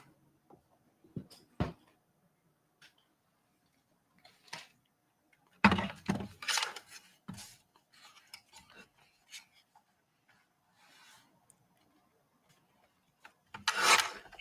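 Craft material being trimmed in short bursts of rasping, rubbing cuts, separated by quiet pauses, close and fairly soft.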